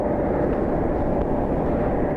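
Boeing 737 airliner taxiing to its gate at an airport, a steady low rumbling drone of engines at a distance with no other distinct sounds.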